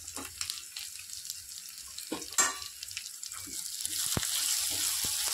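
Chopped onion seasoned with salt and turmeric sizzles and is stirred in a pan, a steady soft frying hiss with occasional scraping clinks, growing slightly louder toward the end.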